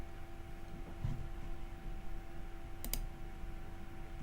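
A computer mouse clicks during a Windows Server 2025 installation, a quick double click standing out once against steady background hum, near and fairly faint, with no talking.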